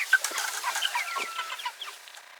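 Meat chickens cluck steadily in a short run of soft, overlapping calls while foraging on grass at a homestead, fairly close and with no talk.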